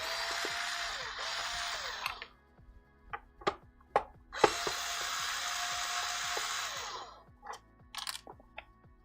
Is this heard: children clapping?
no